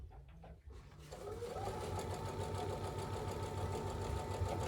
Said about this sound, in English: Y'all hear my machine when it goes over there?